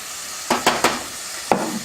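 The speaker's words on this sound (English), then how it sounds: "So we're going to stir in the garlic just until it gets to be a little bit fragrant." Garlic sizzles in hot oil in a pan, broken by four sharp stirring scrapes, quiet with no talking.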